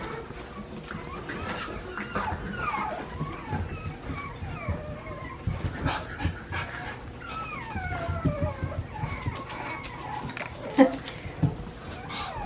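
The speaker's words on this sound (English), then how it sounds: "All the little puppies are crying outside." French Bulldog puppies whimper and cry outside, a string of thin, wavering high whines and yips running through the clip, with a louder cry near the end and people talking nearby.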